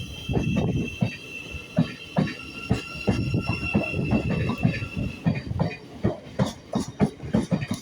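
A Class 700 Thameslink train passes close by at Ely, its wheels beating a fast, rhythmic clatter over the rail joints with a faint whine above. No talking.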